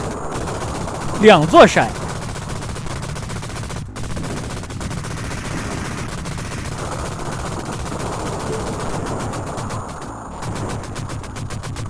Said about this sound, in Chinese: 用机枪拆了山